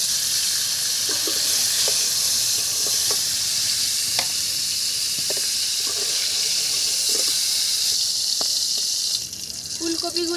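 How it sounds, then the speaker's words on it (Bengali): Cauliflower florets lifted out of hot frying oil in a pan, a steady loud sizzle running throughout with scattered light scrapes and clicks of a utensil, the crackle easing slightly near the end. "এখন আমি ফুলকপিগুলোকে নামিয়ে নেব।"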